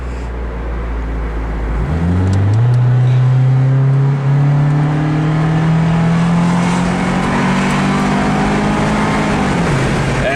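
A Honda del Sol's engine, still cold, idles with a low rumble, then revs up sharply and holds a loud, rising drone as the car accelerates from inside the cabin before easing off near the end.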